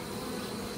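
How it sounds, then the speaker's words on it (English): A steady, dense buzzing of bees, constant and fairly close, with no pauses and no voices. "Bees don't like being messed with this time of day."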